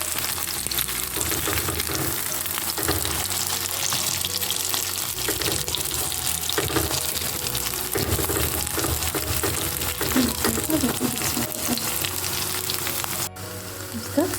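Steady loud sizzling of mushroom patties frying in a pan, continuous crackle and spatter throughout, close up, with a brief clatter near the end.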